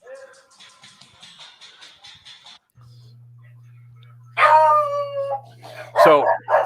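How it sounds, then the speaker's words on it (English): A dog barks in a string of quick yips, followed by louder, drawn-out barking or howling near the end, with a low steady hum running underneath. "What is that? That's Ashley's dog"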